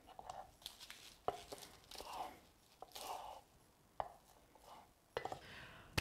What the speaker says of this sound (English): So for the sake of this video, I'm going to simply just chop it.